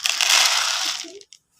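Dry tilapia feed pellets, used as fishing bait base, pour into a container in a short rattling, crunching rush that tapers off and ends with a couple of final clicks.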